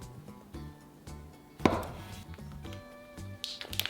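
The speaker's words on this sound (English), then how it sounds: "Cut the egg tofu into about half-inch rings." A knife slices egg tofu into half-inch rings on a cutting board, giving soft, evenly spaced taps about twice a second, close and fairly quiet, with one sharper chop midway and no talking.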